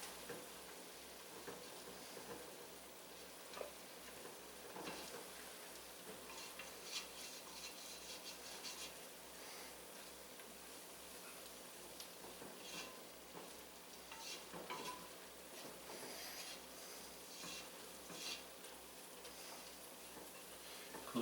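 A whisk works lobster bisque around a hot pot, steady rhythmic scraping and stirring against the metal with a soft sizzle underneath, faint and continuous.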